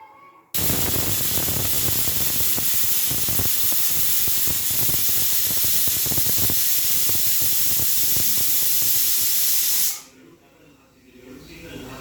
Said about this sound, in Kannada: ಈಗ ಕುಕ್ಕರ್ ಲಿಡ್ ಹಾಕಿ 2 ವಿಜಿಲ್ ಕೂಗಿಸ್ಕೊಂಬಿಡೋಣ